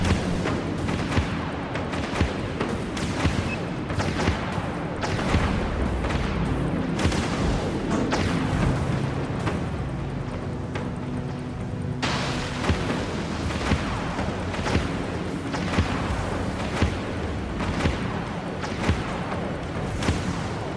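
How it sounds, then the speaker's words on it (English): Vulture missiles launching from a heavy frigate in the space combat game Dreadnought: a dense, continuous barrage of booming launches and explosions, loud and relentless over a rumbling engine bed. "Launching Vulture missiles."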